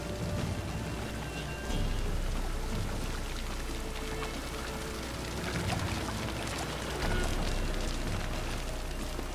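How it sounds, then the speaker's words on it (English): Steady, dense video game rain in The Witcher 3 hisses without a break, loud and close, swelling slightly in two places. "Looks like rain."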